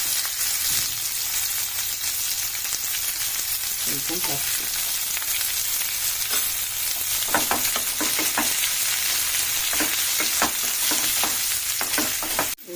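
Two large chopped onions fry with turmeric in a pan for a spinach stir-fry, a dense steady sizzle with scattered scraping stirs and clicks from a utensil, close and alone.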